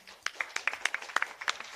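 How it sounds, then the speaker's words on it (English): Applause from an audience at a live spiritual gathering: a few quick, sparse claps, fairly faint and close, in a short irregular run. "let us also give a big round of applause to Shalini"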